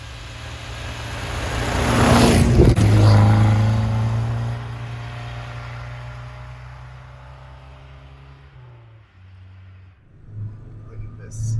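A Toyota Hilux 4WD pickup's engine revs while snow wheeling off-road, a loud, rising drone that swells, holds steady, then dips and picks up again near the end.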